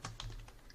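A few quick keystrokes on a computer keyboard, faint light clicks in a short burst.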